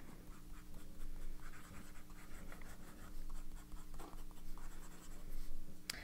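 A fountain pen nib loaded with shimmer ink scratches softly across paper in close, quiet strokes, an irregular rustling scrawl with faint pauses between letters.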